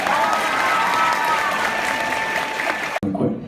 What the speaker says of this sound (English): Round of applause for my friend.